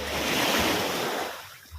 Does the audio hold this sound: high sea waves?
yes